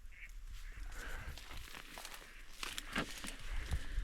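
Ducks on a marshy swamp give faint, distant quacks over a steady outdoor background, with some rustling and movement close by.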